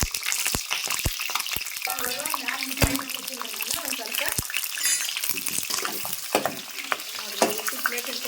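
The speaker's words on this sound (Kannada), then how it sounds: "ಎಲ್ಲ ಮೆಣಸಿನ್ಕಾಯಿನು ಈ ರೀತಿ ಎಣ್ಣೆಗೆ ಫ್ರೈ ಮಾಡ್ಕೊಳ್ತೀನಿ" Green chillies frying in hot oil in a pan, a steady close sizzle with bubbling crackle and sharp clicks of a utensil against the pan; a voice is faintly audible at moments.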